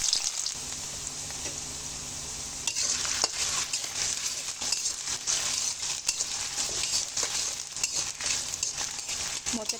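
Potatoes frying in hot oil in a wok for a rural banana flower curry, producing a steady, close, loud sizzle with some stirring scrapes throughout.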